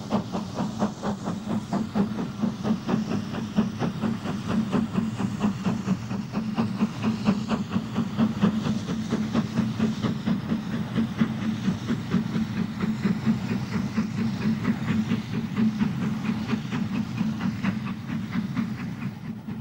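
Great Western Railway steam locomotives City of Truro and King George V working a rail tour south of Shrewsbury, a loud continuous rush of rapid exhaust beats and rolling rail noise for the whole stretch, without speech.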